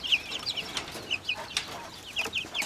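Quail calling repeatedly in a backyard flock, a series of sharp, high chirping calls in quick pairs and triplets, fairly close and clear over quiet background.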